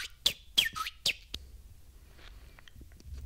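A person imitates bird chirps with a whistle made using the teeth and tongue. A few sharp, bright chirps come in quick succession, then fade to quiet room sound. The whistling is close and solo, with no speech over it.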